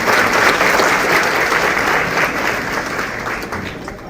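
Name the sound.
audience applauding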